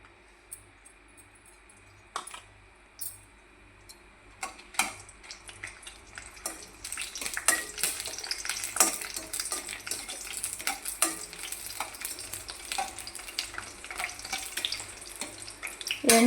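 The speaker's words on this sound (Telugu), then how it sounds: "మిరపకాయలు ఇవన్నీ ధనియాలు అవి వేయించుకొని" Dried red chillies and coriander seeds fry in a pan, starting with scattered clinks and scrapes and building into a dense, continuous sizzle and crackle with stirring, close and moderately loud.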